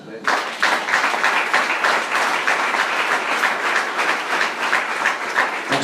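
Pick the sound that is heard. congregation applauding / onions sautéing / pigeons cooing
congregation applauding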